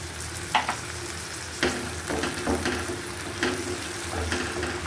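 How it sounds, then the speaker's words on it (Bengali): Onions frying in a pan, a steady close sizzle broken by repeated scraping strokes of a spatula stirring them, with a few sharper clatters along the way. "পেঁয়াজটা আমি সুন্দর করে ভেজে নিচ্ছি।"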